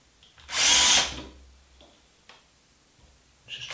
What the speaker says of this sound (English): Just drill it